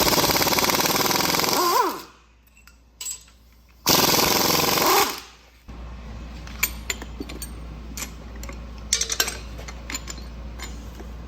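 Power tools and hand tools work on a 1967 Mustang Fastback engine as the cylinder heads come off, with two loud bursts of rattling impact-wrench noise followed by scattered metallic clinks and taps at close range.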